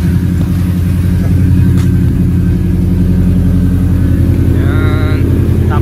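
Subaru Impreza WRX turbo with a quad-tip exhaust, carbon boot scoop and cage, rumbling loudly and steadily through the exhaust with a slight rise in revs near the end.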